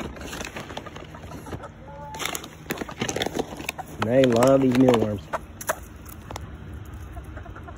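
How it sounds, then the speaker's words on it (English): A chicken gives a short burst of clucking near the middle, loud and close, with someone talking before it and birds chirping faintly around. "will cluck like a hen when I'm feeding him these mealworms"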